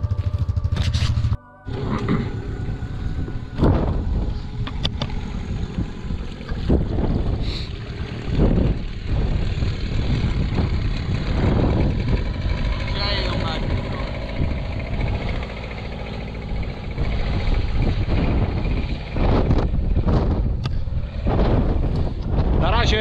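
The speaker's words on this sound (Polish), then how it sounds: "żeby silnik troszeczkę rozgrzać, a później mu troszkę przyciśnie." An outboard engine on an inflatable boat at sea runs steadily at low revs while warming up. Gusty wind buffets the microphone throughout and voices are faintly present.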